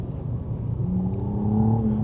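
McLaren sports car engine pulling through a corner on a test drive, a steady nearby drone whose pitch rises gradually as the car pushes on, with no talking.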